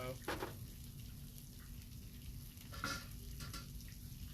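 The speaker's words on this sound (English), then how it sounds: "I am kind of frying the coriander" Fresh coriander fries in a pan with soft sizzling and crackling, fairly quiet and continuous, with a few brighter pops and stirring scrapes.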